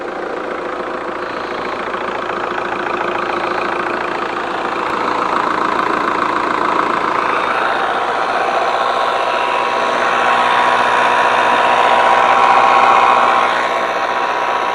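VW Golf GT TDI diesel engine turning over and settling into a steady, slightly knocking idle, heard close and continuous for the whole stretch with no talk.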